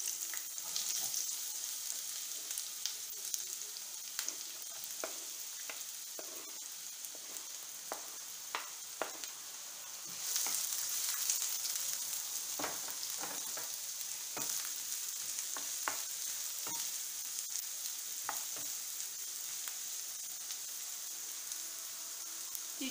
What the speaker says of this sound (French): je vais mettre mes oignons à rissoler